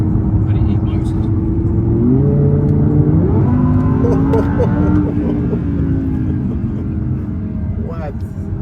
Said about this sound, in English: That V10, man.